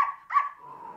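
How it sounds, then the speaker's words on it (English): A dog gives a couple of short, sharp barks close together, fairly faint and with nothing else around them. "I was just talking about a dog barking."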